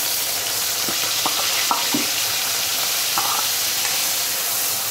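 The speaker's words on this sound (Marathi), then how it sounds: "तर आपण हे कांदा, टमाटा, मिरची आणि अद्रक लसूण वाटलेलं होतं ते आपण टाकणार आहोत त्याच्यामध्ये।" A ground paste of onion, tomato, chili, ginger and garlic for palak paneer fries in hot oil, a loud constant sizzle with a few light spoon knocks as it is stirred.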